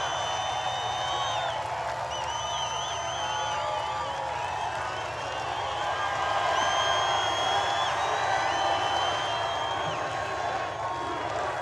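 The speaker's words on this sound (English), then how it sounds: "Crowd showing signs of life for the first time in a while." A large outdoor political rally crowd cheers and whoops in a steady, distant roar under someone speaking over a public address system, swelling slightly toward the middle.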